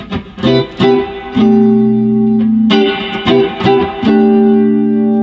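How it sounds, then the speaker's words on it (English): An electric guitar plays sustained chords with a clean, smooth tone, ringing close and loud, with short pauses between strums. "you can have your nice smooth rich sound like I have right now"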